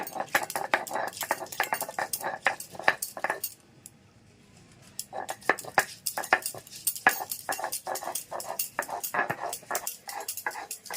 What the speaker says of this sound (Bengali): আমি আদা রসুনটা একটু বেটে নিচ্ছি।